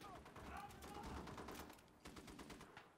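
BAR rifle in the WWII shooter Enlisted firing bursts of rapid automatic shots, a dense rattling fusillade that continues for several seconds, fairly distant and faint.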